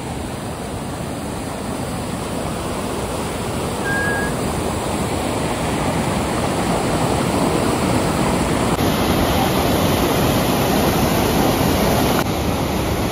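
A mountain stream at Vattavada rushes in a loud, unbroken roar of water, close by and steady for the whole stretch, with no talking.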